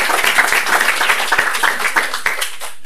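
A small audience at a talk on storytelling gives a short round of applause, with individual claps clearly distinct and close, then the clapping thins out and fades near the end.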